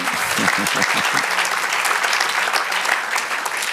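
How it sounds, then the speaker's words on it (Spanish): A church congregation applauds the Lord with dense, continuous clapping, a voice briefly heard over it at the start before the crowd's hands carry on alone. "Otro aplauso al Señor."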